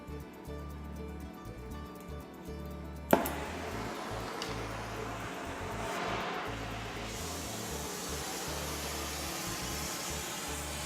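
A torch roars steadily as it preheats a crucible for melting sterling silver for casting, a broad continuous hiss that kicks in after a sharp click, with a low mechanical hum running underneath.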